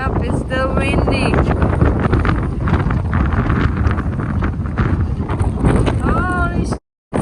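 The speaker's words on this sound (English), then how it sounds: "Yep, it's still windy." Strong wind on a bay where boats are anchored roars steadily into the microphone with heavy buffeting and rushing noise, briefly cutting out near the end.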